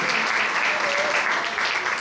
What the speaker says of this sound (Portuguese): Dá aplauso.